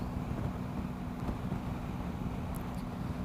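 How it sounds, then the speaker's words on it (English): Steady rumbling wind buffets the microphone throughout, a dense low roar with no pauses and no voices, outdoors on the road to Mt Aspiring and the Rob Roy Glacier. "Very, very, very windy today."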